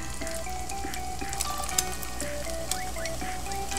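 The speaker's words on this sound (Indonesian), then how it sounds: "Lalu kita tumis bawang putihnya" Garlic sautéing in a pan over low heat for noodles, an even close sizzle with occasional light utensil clicks and scrapes, continuous and unvoiced throughout.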